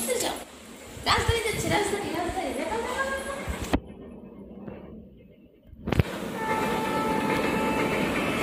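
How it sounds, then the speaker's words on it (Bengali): The Rajdhani Express on Indian Railway in Tripura rolls past with loud rumbling and clattering wheels and a horn blast. There is a brief cut to near silence before the rush resumes, and people talk over it. "রাজধানী যাচ্ছে"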